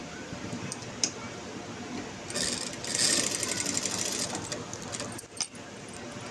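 A sewing machine stitching the armhole of a blouse, a steady close mechanical whirr in one run of a few seconds, with quieter handling and faint clicks around it.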